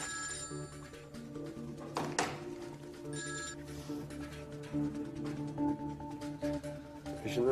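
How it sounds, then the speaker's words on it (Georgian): A telephone rings during a scene from the Turkish drama Ezel, its repeated ringing tones standing out over a bed of steady background music with no talk. "ახლა ტელეფონს ვუპასუხებ."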